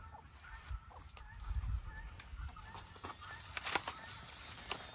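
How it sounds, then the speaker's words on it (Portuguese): Farm geese honk near a small pond. Several faint, scattered calls rise over a low outdoor background, and a few clucks and other fowl sounds mix in. "Os gansos já estão rodeando para querer vir para a água."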